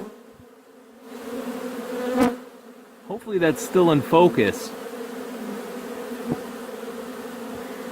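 Honey bees crowd a hive entrance, their steady close-up drone humming throughout while someone speaks briefly in the middle.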